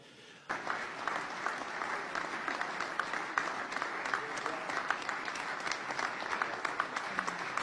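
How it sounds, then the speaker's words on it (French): Sustained applause from an audience for President Félix Tshisekedi, a dense steady wash of clapping that starts abruptly after a brief quiet moment and holds evenly at moderate loudness. "le président américain a demandé aux personnes qui étaient présentes d'applaudir pour le président Félix Tshisekedi"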